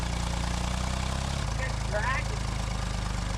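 An old abandoned tractor engine idles with a steady low chugging throb that shifts pitch as the revs drop, with a brief voice in the background.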